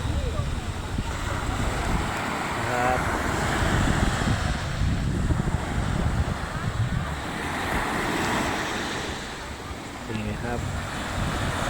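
Ocean waves roll onto the beach at Thung Wiman, Thailand, making a broad, continuous wash of surf that swells and eases. Heavy wind buffets the microphone, and faint voices sit underneath.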